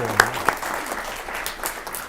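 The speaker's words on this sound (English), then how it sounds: "let's give a round of applause for Ms. Belbet." A short burst of clapping from an audience, steady and moderately loud, with a couple of sharper claps standing out near the start.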